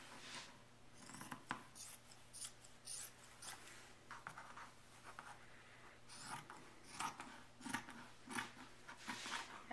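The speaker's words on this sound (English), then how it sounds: "Cut this one out." Scissors snip through quilting fabric in a quiet, irregular series of short crisp cuts close by, with faint rustling between them.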